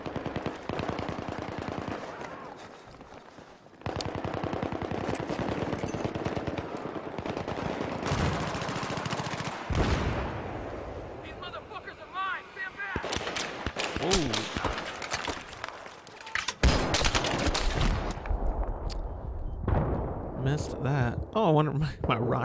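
Battlefield 3 multiplayer team deathmatch on Talah Market, with sustained machine-gun bursts and heavy shots roaring almost continuously, loud and close, while a person talks over the battle.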